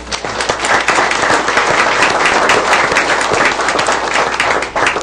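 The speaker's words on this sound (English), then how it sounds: "Would you give them a round of applause?" Loud, dense applause from a city council meeting audience, many hands clapping close together in a steady wash that holds at full strength throughout.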